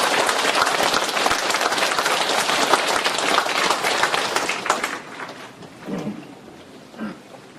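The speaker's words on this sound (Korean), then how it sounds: "큰 박수 부탁드립니다." Loud, dense applause from an audience at a humanities forum lecture, tapering off around five seconds into scattered claps and a few soft sounds.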